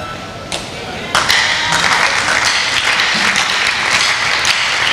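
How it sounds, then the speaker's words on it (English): An audience claps in a church conference service at a domed venue: a sharp start, then a dense, steady wash of applause that fills the hall, with voices mixed in. "You're clapping."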